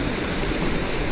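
A waterfall roars with steady, dense broadband rushing close by, heard alone during bass fishing in the rain.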